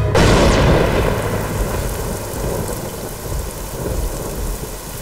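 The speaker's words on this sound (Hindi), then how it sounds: "तो अम्मू, इतनी बारिश में कहाँ जा रही हो?" Heavy rain pours steadily while a loud crack of thunder breaks at the start and rumbles on beneath the downpour, with no voices.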